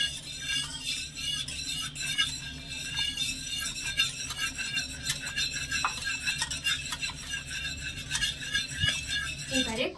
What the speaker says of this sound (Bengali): এবারে কর্নফ্লাওয়ার মেশানো দুধটা দিয়ে অল্প অল্প করে এভাবে মেশাতে থাকবো